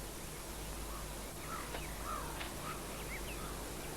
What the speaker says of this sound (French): J'entends 3 chants d'oiseaux différents.